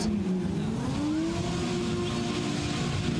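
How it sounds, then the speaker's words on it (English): A drift car's engine revs hard and steadily on tarmac at a drift series event in Borneo, its pitch climbing and holding in a loud, continuous drone with faint tyre noise and no talk. "This car looks blisteringly fast."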